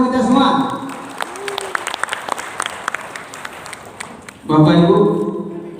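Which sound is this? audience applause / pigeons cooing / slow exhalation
audience applause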